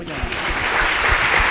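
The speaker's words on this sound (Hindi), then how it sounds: "ताली बजाइए।" Church congregation clapping together during a worship service, a steady dense wash of applause with rhythmic beats running the whole time, fairly loud and close.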